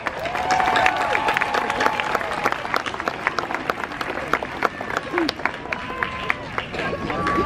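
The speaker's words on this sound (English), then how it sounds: "please take a moment to join me in applauding all the friends, family, and others who made it possible for you to be here today" A graduation audience at a June 2018 UCLA ceremony applauds friends and family, giving steady, dense clapping from a large crowd that lasts throughout while a voice speaks over it.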